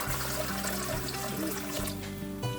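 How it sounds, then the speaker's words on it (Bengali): Water pours steadily into a pressure cooker holding rice for chicken biryani, a continuous close splashing trickle with no voices. "3 বাটি জল দিয়ে দিচ্ছি।"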